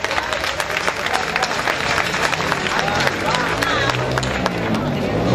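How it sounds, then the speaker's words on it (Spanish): A festival crowd at the Serenata to Esquipulas celebrations in Santa Cruz claps loudly to welcome a priest. The dense, steady applause runs the whole time, mixed with crowd murmur and voices. "recibámoslo con un fuerte aplauso"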